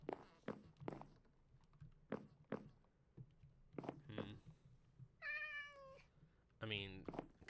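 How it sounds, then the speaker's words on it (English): A cat meows twice in a video game, two short tonal cries near the end, following a series of soft taps and footsteps. "There's the kitty."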